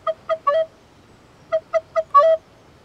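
A musical instrument in an outdoor music session imitates chirping chicks with two quick groups of three or four short, bright, close peeps, separated by a brief pause.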